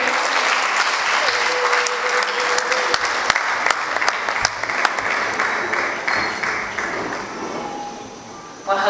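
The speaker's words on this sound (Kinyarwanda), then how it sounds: "Ingabire Justin, mukomere Imana amashyi menshi" A church congregation applauds loudly and steadily at an ordination ceremony, dense clapping close by with sharp individual claps standing out and a brief whistle-like tone, continuing for several seconds.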